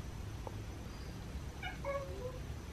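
An unhappy cat meows and growls near a back door, brief strained cries in the middle of the stretch over a quiet background hum.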